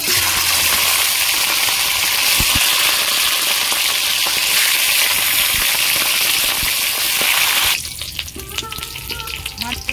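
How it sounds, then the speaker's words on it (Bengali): Fish heads frying in hot mustard oil in a pan, a loud, dense, close sizzle that runs steadily before dropping to a lighter crackle with scattered pops. "তেল গরম হয়ে গেছে, মাছের মাথাগুলো আমি ভেজে নেব।"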